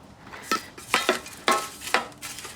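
Gritty potting mix of sand, worm castings and oak leaf mould is stirred and turned by hand in a series of rhythmic scraping, rustling strokes, close and fairly loud.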